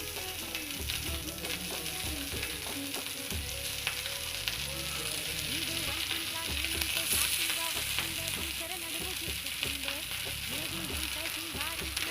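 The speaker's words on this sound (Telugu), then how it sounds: "టూ సైడ్స్ అయితే బాగా ఫ్రై చేసుకోవాలి. కొంచెం ఆయిల్ అయితే పడుతుంది." Billa kudumu, a breakfast dumpling, fries in a little oil in a pan. The soft, continuous sizzle holds steady with small crackles and occasional stirring, and no one speaks.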